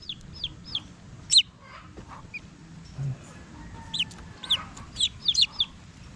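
Close by, fighting-breed chicks peep in high, rapid bursts beside their mother hen, while soft low clucks and faint farmyard rustling sit underneath.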